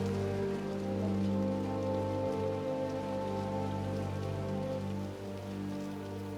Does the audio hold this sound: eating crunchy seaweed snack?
no